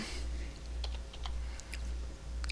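Code is typed on a computer keyboard in quiet, scattered clicks and taps over a low steady hum, close and faint.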